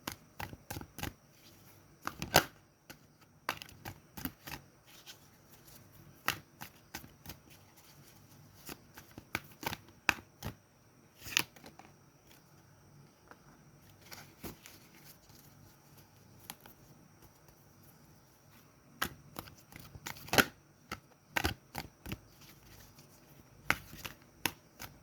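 Tarot cards are shuffled and drawn in a quiet room, giving sparse, sharp riffling snaps and soft card slaps spread irregularly across the stretch, faint and close, with no talking.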